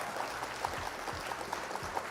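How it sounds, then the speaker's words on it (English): Scattered light clapping from a few people, soft and fairly close, lasting about two seconds after a card game of Flesh and Blood. "Round of applause for our opponent."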